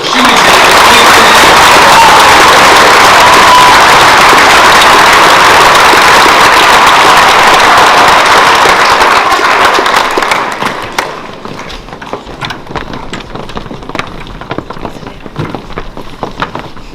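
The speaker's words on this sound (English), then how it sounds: "One more round of applause for student" An audience at a college senior prizegiving applauds students in a loud, dense, sustained roar of clapping that drops abruptly to scattered, thinning claps.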